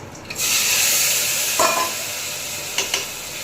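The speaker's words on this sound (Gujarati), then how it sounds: "આખું જીરું નાખ્યું પછી જાય હિંગ નાખા" Whole cumin and asafoetida dropped into hot oil for a spicy rice tempering: after a brief quiet start a strong sizzle flares up and holds, with a couple of short scraping stirs, no voices.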